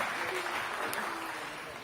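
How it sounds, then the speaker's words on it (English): Applause from an audience at a Q&A event for the New Blood Championships, a brief, fairly soft wash of clapping with a voice faintly audible over it. "Sky, let's give him a round of applause, ladies and gentlemen."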